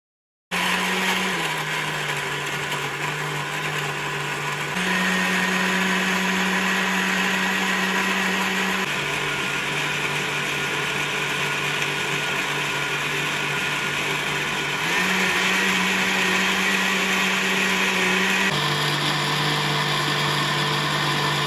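An electric blender runs on watermelon and ginger for juice, a loud, close, continuous motor whir whose pitch shifts a few times as the speed changes.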